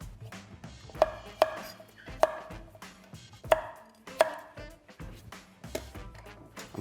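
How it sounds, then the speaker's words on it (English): Knife on a cutting board chopping vegetables into small pieces for a roasted lobster sauce, giving a series of sharp, irregular taps, close and clear, with no talk. "I'm cutting the veg quite small."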